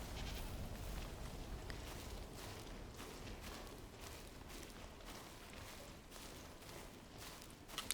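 Mountain goats bleating in the climbing video game Cairn: faint, distant, repeated bleats over a steady breezy outdoor hiss, with no voices.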